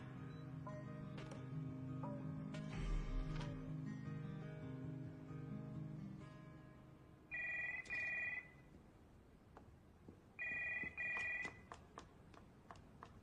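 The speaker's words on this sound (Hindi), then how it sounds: "किसी फोन उठाओ ना" A telephone rings in an office in two separate bursts of bell-like trilling, fairly quiet, with soft background noise between the rings.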